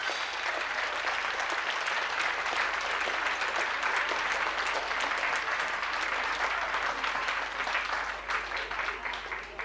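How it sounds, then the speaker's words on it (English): Spectators at a children's circus on Hayling Island applaud the Vondrosky Tumblers, a sustained, dense round of clapping from a crowd that stays loud throughout, then eases slightly near the end. "could we hear a round of applause,"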